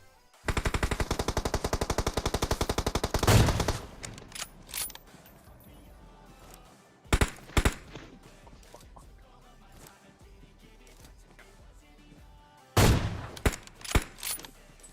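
Gunfire in the mobile battle royale game PUBG Mobile: a rapid automatic burst of about three seconds, then scattered single shots and short bursts, loud and close, with quieter gaps in between.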